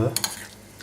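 Green olive tapenade is stirred in a bowl, giving a short, faint, moist scraping with a couple of small clicks of a utensil against the dish.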